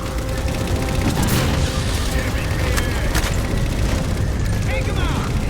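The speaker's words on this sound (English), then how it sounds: "Target those vapors for the railgun to shoot down." Halo 4 railgun firing at vapors amid heavy combat, dense booming blasts and sharp cracks over a constant roar of battle, with a voice speaking through the din.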